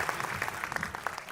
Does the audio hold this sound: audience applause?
yes